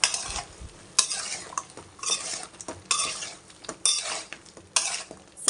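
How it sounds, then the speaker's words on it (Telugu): A spoon stirring chicken fry bagara rice in a metal pan, with about six sharp scraping strokes at roughly one-second intervals over a low sizzle, close up and with no talking. "ఒకసారి కలుపుకుందాం"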